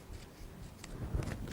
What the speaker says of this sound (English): I'm going to start by chopping off the top of our piping bag.